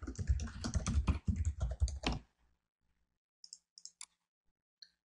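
A username and password go in on a computer keyboard: a dense, loud run of close key clicks, then quiet, and then a few sparse, lighter taps near the end.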